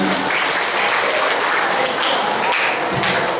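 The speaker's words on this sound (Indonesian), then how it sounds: "Tepuk tangan." Sustained applause from an audience at an Islamic religious lecture on Qur'an memorization, dense and steady for a few seconds with a brief lull near the end.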